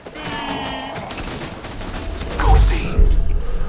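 Borderlands 2 combat: a rapid burst of gunfire rattles under a voice at first, then a heavy grenade blast booms near and loud, followed by more thumping impacts.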